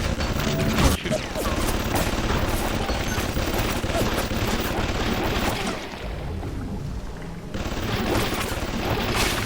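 Gunfire in the BioShock video game, dense rapid bursts of shots and booming impacts, dipping briefly before the shooting resumes.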